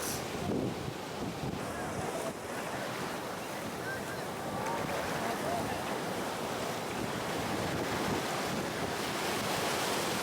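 Continuous rushing ocean surf at Santa Rosa, Peru, with heavy wind buffeting the microphone, a steady loud wash of high breaking waves with no voices.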